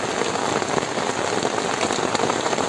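Heavy rain in Çanakkale, Turkey, pours steadily, a dense continuous hiss of drops striking a surface close by, with no voices.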